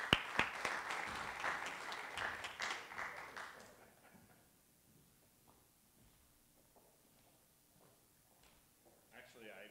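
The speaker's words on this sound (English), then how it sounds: "Give him a round of applause, guys." Audience at a panel event on adopting new building technologies claps in a burst of applause for about four seconds, then it fades to a quiet room with faint talk.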